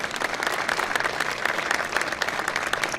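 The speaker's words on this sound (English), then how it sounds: "They deserve some applause." A crowd claps steadily and fairly loudly during a presidential speech at a port, dense applause sustained throughout without a break.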